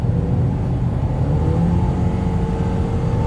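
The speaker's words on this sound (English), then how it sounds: "the engine is way too noisy" A 2020 Toyota Corolla SE with a 2-liter direct-injection four-cylinder engine accelerates on the road, a steady rising engine drone blended with road and wind noise heard from inside the cabin, with no talking.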